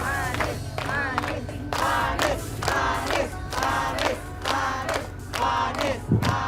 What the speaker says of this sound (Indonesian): Oke, penonton, tenang. Udah jangan pada heboh.